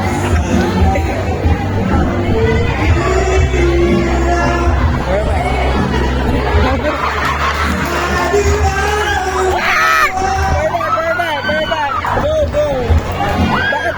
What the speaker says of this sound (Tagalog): Ayun na, sigaw na siya.